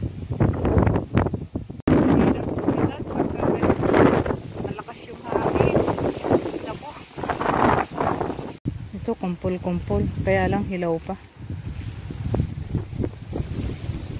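Strong, gusty wind roars and buffets steadily across an open farm during cherry picking, continuing under a person talking throughout.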